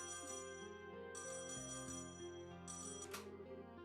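An incoming-call ringtone from the game Trails in the Sky SC plays over background music, a bright electronic chiming pattern that repeats twice, fairly quiet and alone with no talking.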